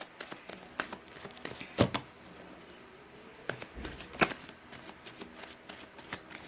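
Tarot cards are shuffled by hand in quick riffling bursts with pauses between them, soft and close, with no talking.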